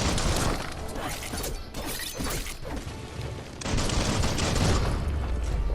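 Slide-shooting gunfire in the action game Biomutant, a dense, loud barrage of bursts, crashes and mechanical clatter with brief gaps before another heavy volley near the end.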